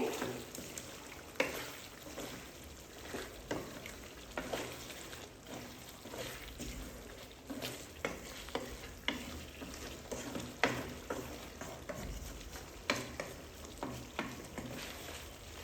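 Chicken curry with masala stirred in a pan, gentle sizzling under repeated scraping strokes of a spoon at an uneven rhythm, close and fairly quiet.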